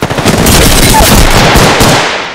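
Heavy automatic gunfire rattles in the battle royale game Apex Legends, a loud dense burst of rapid shots lasting a couple of seconds, with a voice speaking over it.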